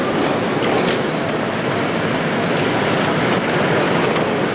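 A train at Newcastle railway station gives off a loud, steady rumbling roar with a faint clatter, filling the whole stretch without pause and with no voices over it.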